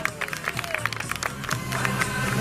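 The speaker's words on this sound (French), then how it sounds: "Oh là là, hey, ça s'applaudit. Ah non, non, non, plus fort" Audience clapping at a lumberjack festival, a scatter of sharp claps that thickens toward the end, with a voice talking over it.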